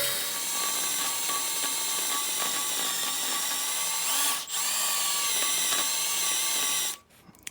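A power drill bores into a broken exhaust stud on an engine manifold, whining steadily and loudly up close with a brief dip midway, then spinning down and stopping near the end.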